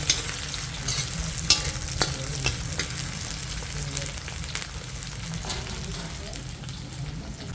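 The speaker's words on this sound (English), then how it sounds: "I'm going in with a nice onion and fresh yuri pepper off the garden there. We're gonna let that fry up for a little bit." Onion and fresh garden yuri pepper fry in warm oil, a steady close sizzle with occasional crackles and pops and stirring, cooked outdoors in a backyard, with no talk over it.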